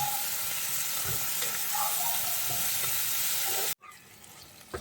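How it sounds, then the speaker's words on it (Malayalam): Onions and tomatoes sauté in a pan for rajma curry with a constant close sizzle and occasional stirring scrapes, cut off abruptly near the end by a quieter stretch. "തക്കാളിയും കൂടെ ചേർത്ത് നന്നായിട്ട് വഴറ്റണം"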